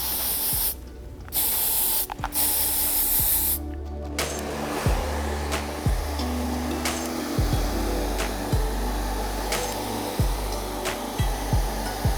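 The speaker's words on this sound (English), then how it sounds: "you can actually net it with the hairspray prior to when you do the top" Hairspray hissing from an aerosol can onto prepped hair, a steady close spray with brief pauses and several short bursts, accompanied by soft handling and tapping noises.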